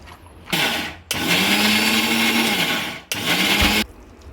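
Soaked chana dal is ground coarse in a mixer grinder: two loud, steady whirring runs, the first long and the second shorter, separated by a brief stop.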